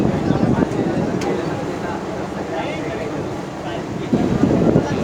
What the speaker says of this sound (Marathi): आता आम्ही ट्रेनमध्ये बसलो.